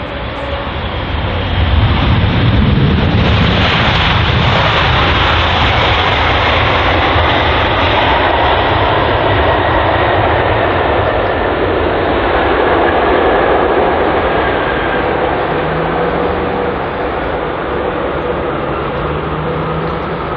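Egypt Air Boeing 787 at London Heathrow, its engines a loud, steady broadband roar that swells early and then holds, with a slow tonal sweep as the jet passes close by, alone without voices.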